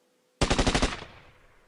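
A rapid burst of about eight gunshots fires as a sound effect in a Stikbot stop-motion battle, loud and close, then rings out into a fading tail.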